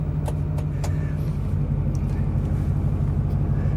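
A 2008 Ford F-250/Excursion build with a 6.4L Powerstroke diesel and Cummins turbo, driving: steady, loud low engine rumble with continuous road and tire noise and a few faint clicks, no talking.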